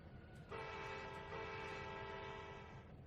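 Train horn in Trainz 2019 as a locomotive prepares to back up, a sustained chord-like blast over a low rumbling engine, starting abruptly and holding steady for over two seconds.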